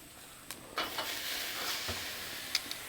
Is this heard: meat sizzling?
yes